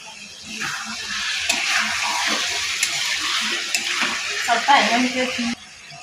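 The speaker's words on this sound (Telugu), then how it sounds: "ఇవన్నీ బాగా కలుపుకోవాలి కొద్దిగా కొత్తిమీర వేసుకుని ఒకసారి బాగా కలుపుకోవాలి" A spoon stirs chicken fry with fresh coriander in a sizzling pan, a steady close scraping and frying hiss for several seconds that cuts off sharply near the end.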